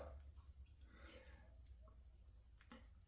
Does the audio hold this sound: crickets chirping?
yes